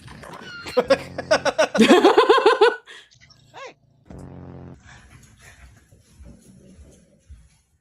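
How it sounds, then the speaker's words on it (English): Chihuahuas make high, wavering whimpers and growls in a rapid burst of close, fairly loud yelps and whines, followed by softer, scattered whining. "Fucking chihuahuas, man."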